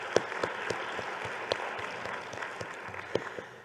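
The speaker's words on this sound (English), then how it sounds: "So we would like to give them all one more huge round of applause." Scattered, fairly quiet clapping at a luncheon with a few distinct sharp claps standing out, like a smaller audience applauding.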